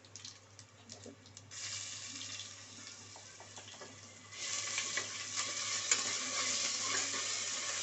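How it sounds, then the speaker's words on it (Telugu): Ginger garlic paste sizzles in a hot pan with curry leaves while cooking horse gram rasam; a steady frying hiss grows louder and denser partway through, with soft stirring scrapes and no talking. "హాఫ్ టీ స్పూన్ అల్లం వెల్లుల్లి పేస్ట్ వేస్తున్నాను"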